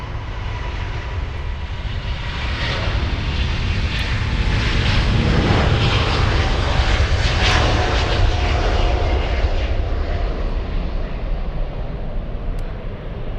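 A Vietnam Airlines jet airliner takes off at Munich airport, a loud, sustained engine roar that swells and slowly fades, heard alone at moderate distance.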